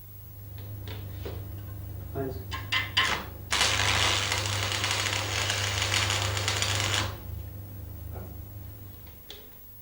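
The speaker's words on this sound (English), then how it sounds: "Strike the arc at the end and move inwards to make a tack weld about 10 millimeters long." An arc welder strikes an arc and lays a short tack weld into a steel corner joint, with a few sharp crackles, then a steady harsh buzzing sizzle for several seconds that cuts off abruptly over a low electrical hum.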